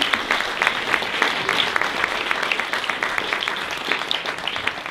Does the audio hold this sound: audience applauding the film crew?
yes